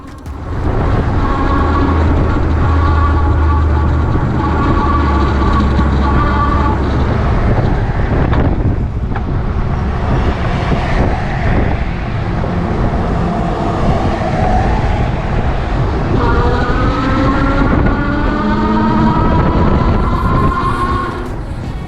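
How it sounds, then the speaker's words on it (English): RadRunner Plus electric bike riding along with its hub motor giving a steady whining drone under heavy wind rush, the whine rising in pitch in the later stretch. "The sound from the motor is not that loud, but you will hear the winding sound."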